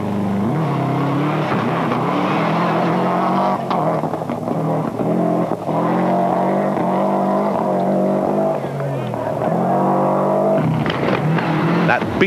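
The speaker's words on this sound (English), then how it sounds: "That beat of that Flak 6 engine can't be mistaken anywhere." Subaru Impreza rally car with a flat-six engine at the 1995 Boucles de Spa rally, its engine note loud and steady with revving and pitch changes as it passes close by, with no talk.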